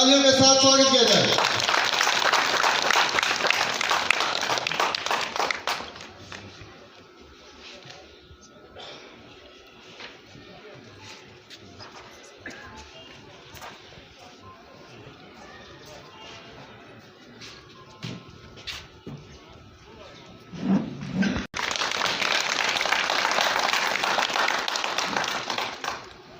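A crowd at a Hindu religious gathering in Tissa, Himachal Pradesh breaks into loud applause at the start. It dies away into a quieter, busy stretch with scattered sounds, then swells again into strong clapping at the end.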